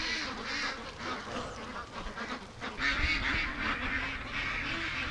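A flock of free-range ducks quacks steadily and fairly close, with overlapping honking calls that keep going and swell in loudness partway through.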